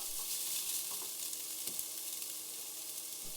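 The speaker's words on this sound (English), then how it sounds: "Then fry that till the onion softens and becomes translucent." Onion frying in a pan for a Bengali lobster coconut curry gives a close, steady, bright sizzle with soft crackles. It runs continuously with no talk.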